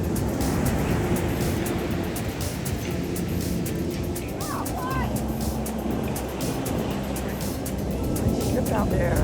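Strong ocean surf at Chincoteague Wildlife Refuge two days after a nor'easter, a loud constant roar of breaking waves mixed with heavy wind noise, while people talk over it.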